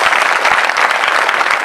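A crowd at a devotional Shiv Purana kirtan with a live tableau breaks into loud, dense applause, a continuous wash of many hands clapping close and without pause.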